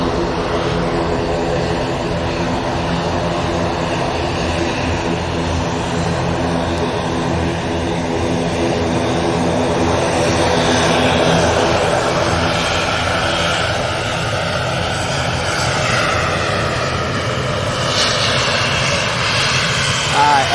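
Propeller airliner at Manchester Airport, its engines droning steadily and loudly with a layered tonal hum close by, sustained throughout the whole stretch.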